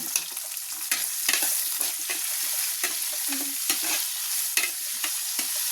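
Chopped onions with a pinch of salt sauté in a pan for a chicken curry, a steady close sizzle broken by repeated scraping stir strokes throughout, with no talking.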